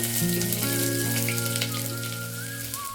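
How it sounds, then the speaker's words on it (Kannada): Chopped onions sizzle steadily in hot oil with garlic in a pan, a continuous crackling hiss with some humming tones sustained underneath. "ಇವಾಗ ಈರುಳ್ಳಿ ಕಲರ್ ಚೇಂಜ್ ಆಗೋವರೆಗೂ ಫ್ರೈ ಮಾಡ್ಕೊಳ್ಳಿ"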